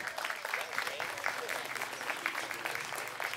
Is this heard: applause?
yes